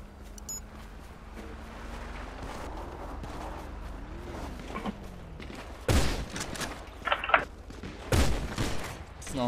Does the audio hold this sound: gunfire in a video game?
yes